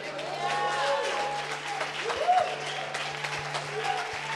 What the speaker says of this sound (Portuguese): você aplaude acima da sua cabeça